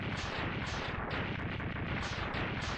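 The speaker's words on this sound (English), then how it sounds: "Now you notice they changed the explosions here for the bosses too." Rapid chains of crackling blasts from a boss explosion in the video game Mega Man X2 go off in quick repeated bursts, steady and dense, with no voices over them.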